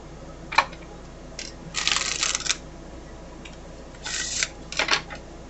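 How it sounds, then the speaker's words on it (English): Oracle cards being shuffled by hand during a psychic reading, quick papery riffling bursts in a few separate runs with brief taps between them, close and fairly quiet, no talk. "Let me shuffle one more time here."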